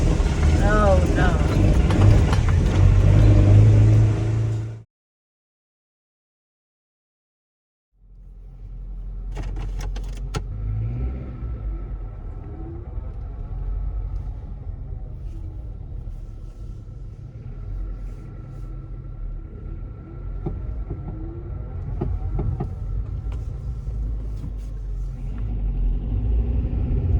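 Car engine idling with a steady low rumble in a car with a known fault, after a brief cutout, with faint clicks and rattles over the drone.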